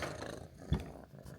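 A house cat purrs loudly and close by, a steady low rumble with one stronger surge midway through the short stretch.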